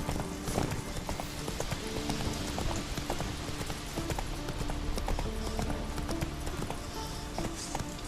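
Geralt's horse Roach gallops in The Witcher 3 video game, with a rapid, steady clip-clop of hooves over ambient game sound and light background noise.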